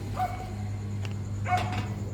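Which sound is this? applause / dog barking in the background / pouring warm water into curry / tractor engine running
dog barking in the background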